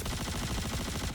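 Rapid, continuous video game gunfire: a dense automatic burst of closely spaced shots that holds steady and loud for about a second.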